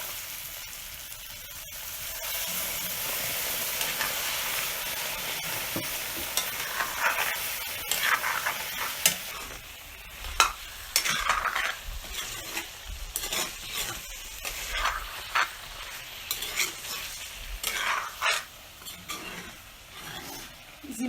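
Goat meat with tomato, village-style Assamese cooking, fries in a pan with a little water added while being stirred, with scraping and rubbing strokes over a continuous sizzle that swells and fades in loose, irregular rhythm.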